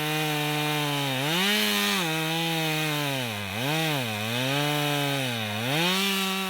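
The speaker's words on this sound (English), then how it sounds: "This chainsaw is terribly dull though." A dull, smoking chainsaw drones steadily, its engine pitch dipping and rising as it bogs down while cutting into a log, loud and close with no talking.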